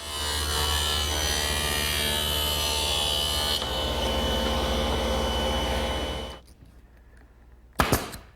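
A table saw rips a board along the rip fence for a seven-drawer chest cornice, a loud steady whine for about six seconds before spinning down, then a sharp knock near the end.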